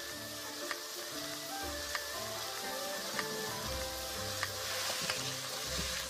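Chicken wings sizzle and fry in a hot pan, a steady crackling hiss with a few sharp pops and clinks from stirring, heard alone with no talk.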